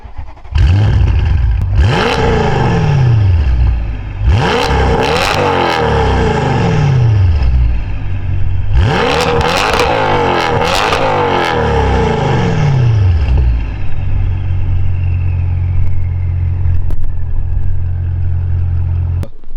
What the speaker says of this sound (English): catless downpipe, Alibaba exhaust with Valvetronic mufflers